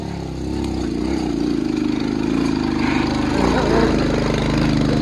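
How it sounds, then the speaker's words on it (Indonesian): A motorcycle engine running nearby, a steady mid-pitched droning rumble that holds level throughout with a slight swell near the end. "Suara motor."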